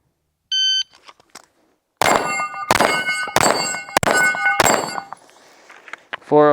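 Race City Defense RC9 pistol rounds ring off steel targets in five sharp metallic clangs spaced about half a second apart, each leaving a bright, ringing tail. A short electronic beep comes earlier and faint handling noises sit between the shots.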